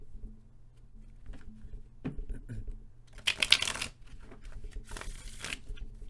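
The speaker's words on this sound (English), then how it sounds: "let's shuffle these" Tarot cards are shuffled by hand in two close, crisp riffling bursts, each lasting under a second, separated by a brief pause amid soft handling noises in a quiet room.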